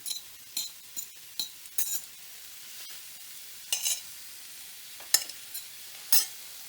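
Pork neck hits hot oil in a pan, and the short sizzle bursts come one after another with spoon-and-pan clinks and stirring scrapes between them. The sounds are close and there is no talking.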